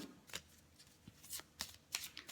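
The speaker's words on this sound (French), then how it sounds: "très faciles à mélanger parce qu'elles tiennent dans la main" A deck of playing cards is shuffled by hand in several quick, soft riffles and flicks, close and faint, with short pauses between bursts.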